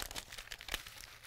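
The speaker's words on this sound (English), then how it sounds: "now let's crumple it up" Paper with written notes being crumpled into a ball, a quick run of soft crinkling and crackling close by, quiet and with no talking.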